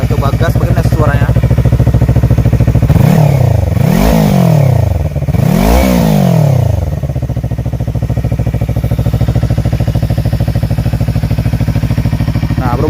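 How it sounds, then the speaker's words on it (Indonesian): A 2016 Yamaha MT25 motorcycle on its stock exhaust with the filter cut idles loudly and close, then is blipped through three sharp rising-and-falling revs before settling back to a steady idle. "Kita coba gas bagaimana suaranya"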